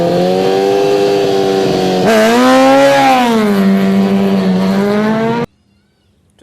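A racing motorcycle at the Isle of Man TT screams past at high speed, its engine note rising and then falling as it passes close by, before the sound cuts out abruptly.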